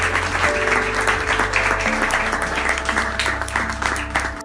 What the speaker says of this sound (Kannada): ತಲಾ ಒಂದೊಂದು ಚಪ್ಪಾಳೆ ಹೊಡೀರಿ ನೋಡೋಣ.